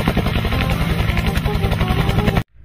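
Military helicopter in a video game, its rotor thudding in a rapid steady beat with engine whine, loud and close, then cutting off abruptly.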